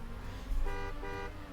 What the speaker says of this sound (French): Voilà, ça klaxonne à l'arrivée